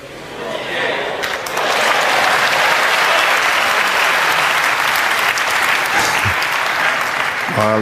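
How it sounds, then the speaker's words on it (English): A snooker audience at the Masters final breaks into applause after a fluke, the clapping swelling after about a second into a loud, dense, sustained patter that runs to the end. "Nice generous round of applause for a fluke."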